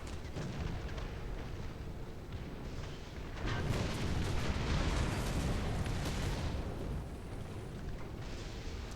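War Thunder tank battle with a Hetzer tank destroyer, where heavy cannon fire and deep booming blasts roll through a rumbling, noisy combat soundscape, swelling loudest in the middle.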